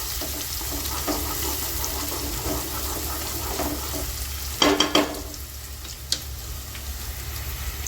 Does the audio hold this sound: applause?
no